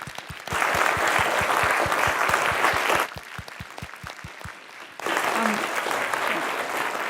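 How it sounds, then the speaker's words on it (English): Sustained applause from a lecture audience at a forum thanking the lecturer Billie, loud and dense through the opening seconds, dipping briefly in the middle, then swelling again to the end. "let's give Billie a great round of applause."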